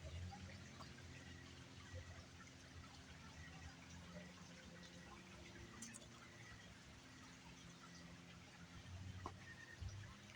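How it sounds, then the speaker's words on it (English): Crickets and flowing water at a nature center: a steady, fairly faint wash of running water with a continuous thin chirping layer over it. No voices are heard. "You can hear crickets and the water flowing."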